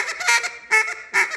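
A duck call blown in the hen-mallard "bouncing hen" sequence gives a quick series of nasal quacks, bouncing in three uneven bursts, loud and close with no other sound.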